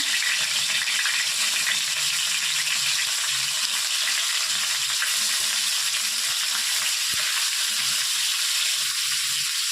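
Fish fries in hot oil on a tawa pan for a village-style fish curry, giving a steady, close, even sizzle and crackle with no voices.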